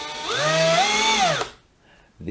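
Cordless drill or impact driver from a 12V/18V group (Makita HP332D, Milwaukee M12 CPD, DeWalt DCD776) revving up at full power with a rising, then falling whine for about a second and a half, then stopping; loud and close.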